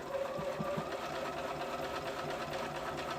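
A sewing machine stitching a summer muumuu dress runs in a continuous fast, even mechanical whir with a steady pulsing rhythm, close and fairly loud throughout, with no talking.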